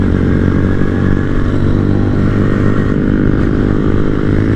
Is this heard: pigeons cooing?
no